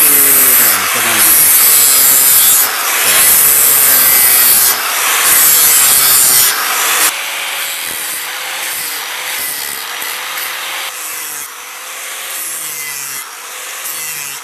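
A grinder shaping wood for a sadaman drum, a loud, continuous abrasive rasping and scraping with changing pressure and pitch, alone without talk.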